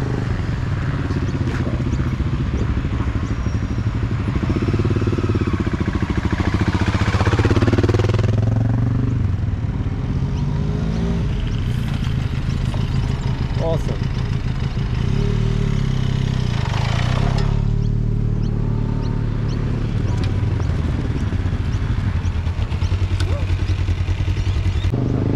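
An adventure motorcycle's engine runs steadily through a low-speed braking drill at a ladies' coaching session, with rough rumble and clatter rising and easing over about 25 seconds, close by and fairly loud, with a voice faintly underneath.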